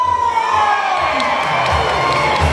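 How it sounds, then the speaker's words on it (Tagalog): Dense crowd at a town gathering for a mayor breaks into loud applause mixed with shouts and cheering, a sustained roar with high whoops rising above it. "Kaya natin ng isang malakas na palakpak na may kasamang hiyawan!"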